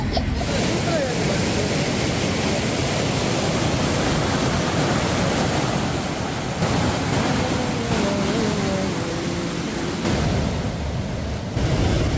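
River water rushes steadily in the riverbed at Kodiveri dam near Gobichettipalayam, a loud, continuous, roaring wash with voices speaking faintly underneath.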